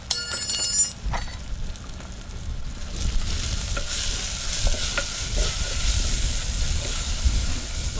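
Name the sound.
frying with turmeric, coriander-cumin powder and salt being stirred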